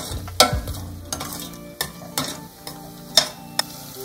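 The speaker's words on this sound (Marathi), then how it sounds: "टोमॅटो आणि आपण केलेलं ते वाटण आणि हे सगळं छान तळून घेऊया।" Tomato and ground masala paste fry in a pan for a peas and potato curry, a soft sizzle under repeated scraping stirs and light clinks of a spoon against the pan.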